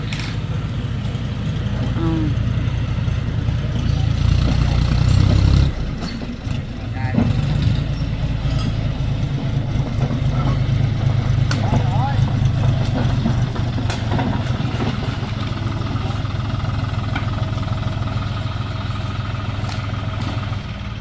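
A car engine idling close by with a steady low rumbling hum that dips briefly and picks back up, while people talk faintly in the background.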